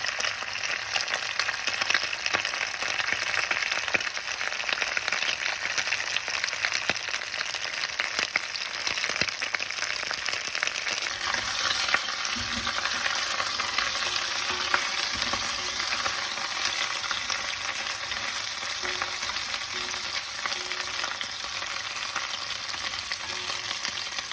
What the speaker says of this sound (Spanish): Y dejo que se frían hasta que se pongan doraditos.